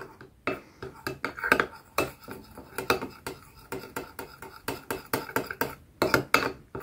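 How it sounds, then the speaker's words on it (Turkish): A spoon stirring a vitamin E hair mask mixture in a bowl, rapid repeated clinks and scrapes in a steady brisk rhythm, close and fairly clear, with no talk over it. "İyice karıştırıyorum."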